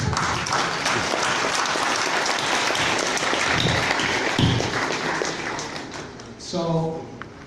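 Audience clapping at a seminar, steady and fairly loud throughout, with thumps mixed in and a voice briefly audible near the end.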